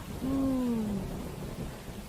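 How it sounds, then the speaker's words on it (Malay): Heavy rain pours in a steady, dense hiss, with a single low hooting tone gliding downward near the start. "Hujan lah. Sejuknya hujan-hujan ni. Lebat pula tu."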